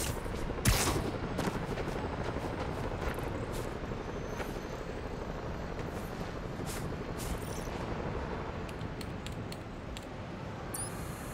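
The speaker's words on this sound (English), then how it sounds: "Roxxon and the Underground are trading shots nearby." Roxxon and Underground gunmen trade shots in Spider-Man: Miles Morales, a steady distant crackle of mixed gunfire with a sharp louder crack near the start, running continuously under a city background.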